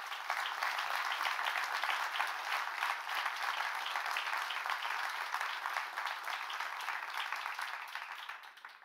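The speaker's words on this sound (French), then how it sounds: "je vous propose que nous affichions notre propre solidarité en applaudissant cette" An audience applauds steadily at a stamp trophy award ceremony, dense sustained clapping from a full room that holds even for the whole stretch and fades slightly at the very end, with no talk over it.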